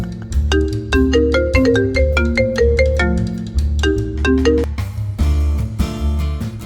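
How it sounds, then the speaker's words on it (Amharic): A mobile phone ringtone plays loudly and alone as a bright, bouncing electronic melody of repeated tones that cycles for several seconds in a domestic scene from an Amharic radio drama. "ይሄን ስልክን ልታጠፋልኝ አትችልም?"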